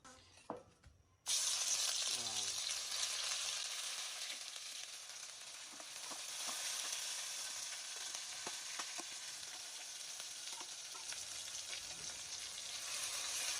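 Spice pastes for a crab curry (ginger, green chilli, garam masala and cumin pastes) fry in a hot pan with a loud, steady sizzle that begins abruptly and continues without pause, with faint stirring clatter.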